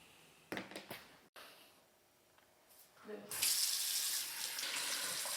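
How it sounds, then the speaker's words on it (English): Warm water from a restroom sink faucet: a few handling knocks and brief splashes come first, then the tap opens into a steady, close rushing stream that keeps running to the end. "now that we're at the sink, I've got the water warmed up"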